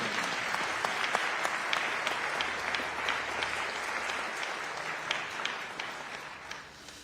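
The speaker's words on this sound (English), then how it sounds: "Y'all, please give a round of applause for his brother Leon." Mourners at a funeral in a Baptist church in Chesterfield applaud steadily, a full, continuous roomful of clapping with sharp individual claps standing out, easing slightly near the end.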